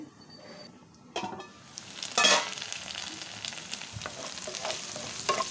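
Onions frying in oil for a coastal-style Goan fish meal give a soft, fairly quiet sizzle, punctuated by a few sharper stirring scrapes and clinks, with no talking.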